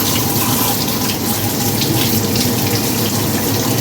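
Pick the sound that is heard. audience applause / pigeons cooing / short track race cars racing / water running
water running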